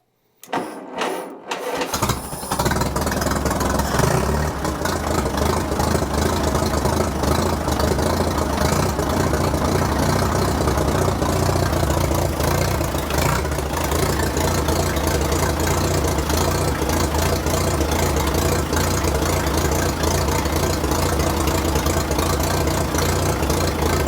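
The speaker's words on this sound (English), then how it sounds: "let's fire it up and let it run." A 1943 Case SC tractor engine cranks a few times, catches and settles into a steady, loud idle with a rough, slightly uneven rumble that runs on without a break.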